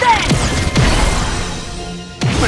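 A rolling shot kick in the soccer video game Inazuma Eleven Strikers, sharp thwacking impacts with sweeping whooshes, three hits spread over a couple of seconds beneath game music, with voices shouting.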